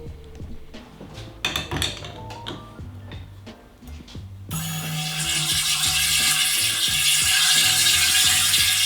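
A Boel iTap X bottle opener clicks and ratchets as it grips a bottle, giving close mechanical ticks that turn into a denser, steady whirring rattle partway through.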